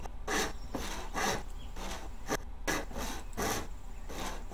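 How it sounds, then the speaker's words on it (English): Rhythmic back-and-forth sawing of wood in the video game Haven and Hearth, about six rasping strokes at a steady pace, clear and close with no talking. "stop sawing"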